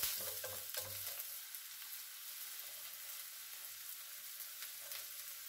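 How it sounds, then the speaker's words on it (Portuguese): Onion and bell pepper sauté in a pan for a seafood paella, making a steady, moderately close sizzle with a few stirring clatters early on. No one speaks. "Já refogo também o pimentão."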